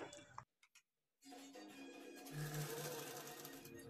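After a few soft clicks and a brief silence, a sewing machine runs steadily and quietly, stitching a double seam along a blouse's shoulder toward the sleeve.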